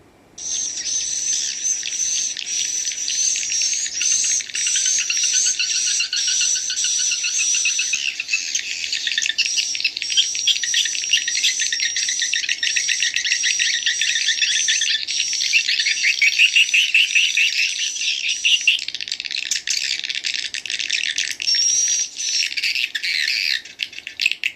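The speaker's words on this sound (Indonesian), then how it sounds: "ini satu contoh karakter burung walet" Edible-nest swiftlets call in a dense, continuous chorus of rapid high chirps and twittering, loud and unbroken, as a recording played for attracting the birds.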